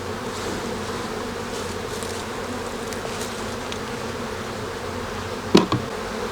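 Honey bees buzz steadily around a hive during a hive split, a continuous droning hum close by, with a brief knock or clatter near the end.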